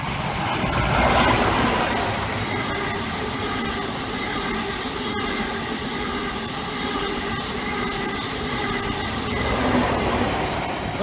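British Rail Class 43 HST power car 43206 passes on an East Coast Main Line diversion route via Lincoln, a steady loud rumble with rail clatter and a drawn-out whine, sustained throughout with no talking.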